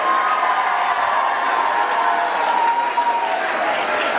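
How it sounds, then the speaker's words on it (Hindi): Sustained crowd applause at a school farewell function, a steady dense wash of clapping from an audience, loud and continuous throughout with a faint hint of voices mixed in. "तालियां दो जगमोहन साहब के लिए"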